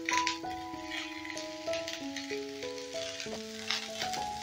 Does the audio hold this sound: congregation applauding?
no